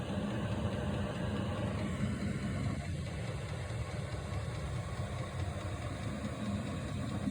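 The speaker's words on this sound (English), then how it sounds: "diesel heater, back bedroom. I'm set on 2, I'm gonna run it through a cycle." A newly installed diesel heater runs a cycle on setting 2 in an RV's back bedroom, giving off a steady, even mechanical hum and low rumble that holds constant throughout, close by and alone.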